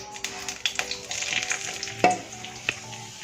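Flour roasting in ghee in a pan over very low heat gives a soft, continuous sizzle, broken by scraping stirs and a few sharper clinks of the spoon against the pan.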